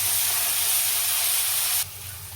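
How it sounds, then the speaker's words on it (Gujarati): Ginger-chili-garlic paste and spices sautéing in hot oil give off a loud, steady sizzle that drops sharply in intensity near the end, close and alone. "આદુ મરચાં અને લસણની જે આપણે પેસ્ટ બનાવી હતી એ નાખીશું અને આપણે સાતરી લઈશું."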